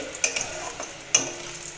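Cinnamon stirred in hot oil with cloves for a doi katla fish curry, a soft sizzle with two quick spatula clicks, brief and close, no voices.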